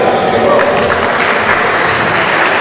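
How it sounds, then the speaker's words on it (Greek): A crowd applauds in an indoor arena at a handball match, a loud, dense and continuous clatter of clapping close by, with a commentator's voice running over it. "το χειροκρότημα από τον κόσμο"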